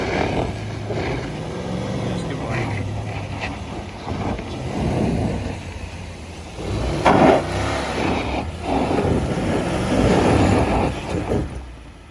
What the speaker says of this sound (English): the car definitely struggles to get over even the first obstacle